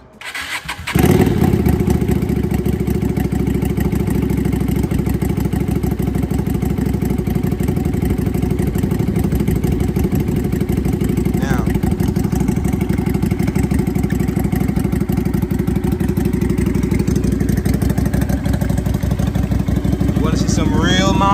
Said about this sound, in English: first, I'm going to start the bike, see if there is any outside noise from here.